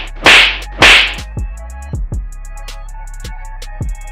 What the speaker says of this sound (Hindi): जैसे ही दरोगा जी के गालों पर लगे थप्पड़ की गूंज सुनाई देती है